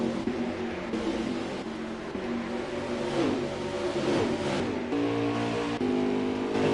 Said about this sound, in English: And a car coming off the pit lane.